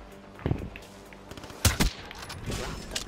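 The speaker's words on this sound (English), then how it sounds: "I almost got shot by something." Video game gunfire: a few sharp shots early, then a loud, close double burst in the middle and scattered fainter shots afterward, with no voices over it.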